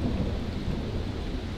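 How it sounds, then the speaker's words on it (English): Heavy downpour during a thunderstorm at a house with a rooftop solar installation, a deep continuous rumble of thunder rolling under dense, steady rain noise, loud and unbroken throughout. "It's raining cats and dogs, and I don't know if you could hear that, but just some pretty loud thunder"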